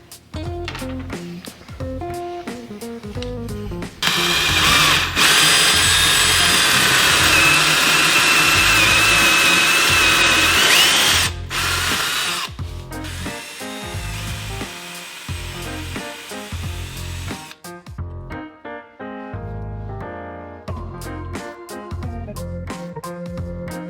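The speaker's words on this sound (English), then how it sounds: "You want the drill bit to be about the circumference of this part" A power drill bores a hole in a wall for hanging an IKEA shelf: a loud, steady high whine lasting about seven seconds, with quieter handling noise and short bursts around it.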